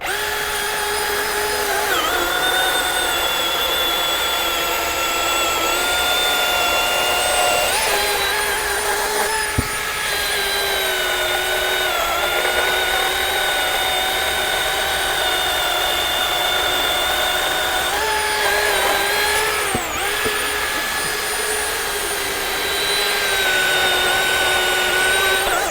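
A chainsaw with a 20-inch bar and chain cuts through wood in a demo at the Equip Expo 2024 trade show, a sustained high whining motor drone that dips briefly as the chain bites under load.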